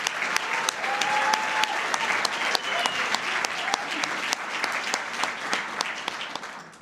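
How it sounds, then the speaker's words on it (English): A large audience applauds after the national anthem at a military retirement ceremony, dense sustained clapping filling the hall and tapering off at the end. "let's give one more round of applause to our national anthem"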